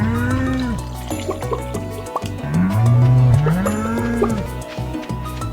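Cows moo in a Stardew Valley farming game, two long low calls standing out over steady background game music with faint dripping water sounds.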